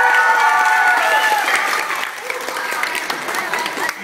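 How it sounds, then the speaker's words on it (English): Loud applause from an audience at a swimming event, dense clapping and cheering with a whistle-like tone early on, easing slightly after the first couple of seconds but continuing steadily to the end. "give them a big round of applause."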